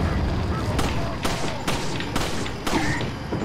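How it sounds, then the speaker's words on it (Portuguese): Several loud, booming shotgun blasts in Resident Evil 4 go off at uneven intervals, each a sharp crack over a noisy game backdrop. "Um tiro de 12 aqui, um tiro de 12 aqui"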